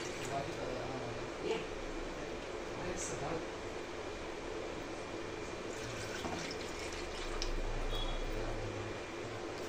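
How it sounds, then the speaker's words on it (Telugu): Half a litre of thick milk being poured for homemade ice cream: a continuous liquid splashing and filling sound with a steady background hiss, fairly close, with no clear talk over it. "ice cream prepare చేసుకునేదానికి half litre చిక్కటి పాలని తీసుకోవాలండి"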